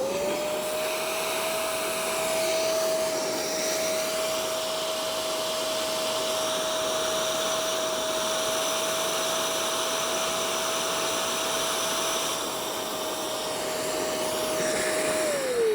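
A Shark StainStriker HairPro PX253 carpet cleaner runs its hose self-clean cycle, giving a steady, loud, close motor whine with a constant high pitch that holds for about fifteen seconds before winding down at the end.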